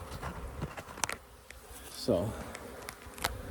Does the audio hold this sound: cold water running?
no